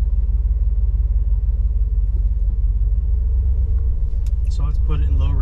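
A Jeep engine rumbles steadily in first gear up to about 3,000 RPM, then shifts, a loud close drone with a voice talking near the end.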